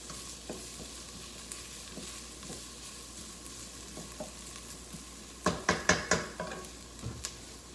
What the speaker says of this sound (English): we will toss in our garlic and our mushrooms to finish those